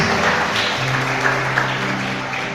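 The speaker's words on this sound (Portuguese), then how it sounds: "Sente aplaudindo ao Senhor em nome de Jesus." A church congregation applauds together, a continuous wash of clapping at steady volume with a low sustained musical tone beneath it.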